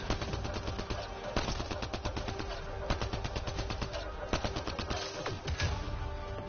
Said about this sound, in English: A one-shot pistol is not going to help me in these circumstances where I'm being shot at.